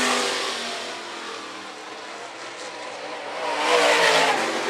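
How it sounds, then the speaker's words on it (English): Late model race cars roar around the Phillips County Raceway dirt track, engines droning steadily and swelling louder as cars pass close near the end, with no voices. "Here's your second place car, Dakota Berry."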